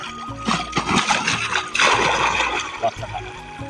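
Water poured into a farm crop sprayer to wash it out after pesticide use in a rice field, splashing and sloshing in irregular bursts close by, with someone talking over it.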